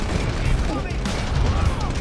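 A burst of friendly gunfire in the Halo 2 video game, a quick rattling volley under a dense rumbling battle mix lasting about two seconds.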